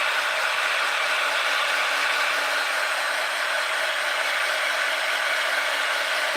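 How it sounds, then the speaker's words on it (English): A heat gun blows hot air over the back of a wooden haunted house craft, a constant, loud, hissing whoosh that holds steady throughout. "I'm gonna dry the back at least with heat"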